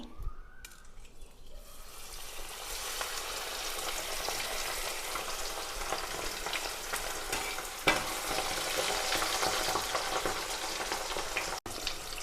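Chicken coated in crushed Lay's chips drops into hot oil and deep-fries with a loud, dense, steady sizzle that swells after an initial splash, close by with no voices.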